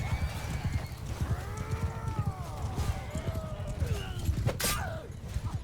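Horses in a Bannerlord cavalry fight thunder past in a steady, close drumming of hooves, while several drawn-out neighs sweep up and down over the galloping.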